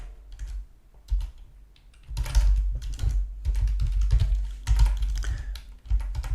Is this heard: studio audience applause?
no